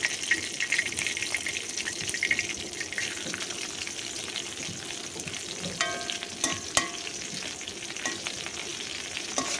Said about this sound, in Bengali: রসুনগুলোও ভালো করে ভেজে নিব।